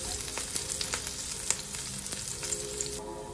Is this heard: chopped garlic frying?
yes